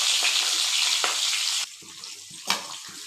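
Fenugreek, fennel seeds, green chillies, onion and garlic drop into hot oil for a Catla fish curry, giving a loud, steady sizzle that thins after about a second and a half to a quieter crackle, with one sharp clatter near the end.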